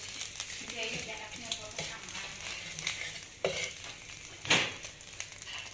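Khmer spice paste frying in a pan with lively crackling sizzle, punctuated by stirring scrapes and a few sharp knocks of a utensil against the pan, close and moderately loud.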